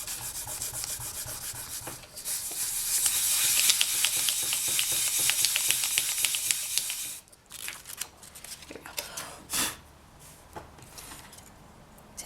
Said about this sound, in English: So I'll just give that a stretch and burnish it one more time.